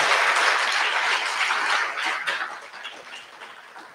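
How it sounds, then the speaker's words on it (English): An audience applauds a Bharatanatyam arangetram performance, steady dense clapping that holds for a couple of seconds and then gradually thins and fades. "can we all give a round of applause for the amazing performance?"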